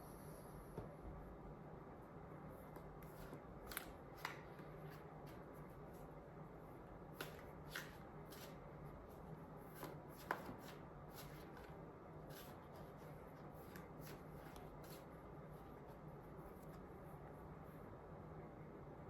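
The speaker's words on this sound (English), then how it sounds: "Continue to shuffle a bit more here as I tune into the energy of those that are tuning into the video." Tarot cards being shuffled by hand, heard as quiet, close riffling and soft snaps scattered irregularly over a faint background hiss, with no talking.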